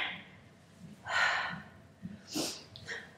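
Heavy breathing during exercise, a few loud close exhalations and sharp inhaled gasps at irregular intervals over a quiet background, no words spoken.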